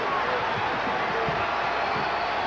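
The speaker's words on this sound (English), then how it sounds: "Listen to the Duke crowd starting to roar now." A Duke Blue Devils home crowd at a 1986 NCAA Tournament basketball game gives a steady, broad roar that fills the arena, with faint thuds and a commentator talking over it.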